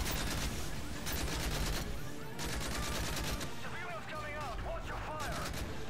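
Gunfire in the video game Modern Warfare 3: dense, rapid bursts of automatic shots and booms follow one another almost without pause, loud and near. A player's voice cuts in over the shooting.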